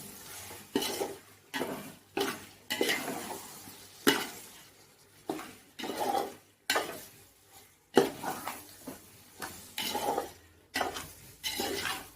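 Chicken stirred into masala in a pot for chicken biryani, with a dozen or so scraping, clanking spoon strokes against metal in an uneven rhythm over a faint sizzle, close and distinct without talk.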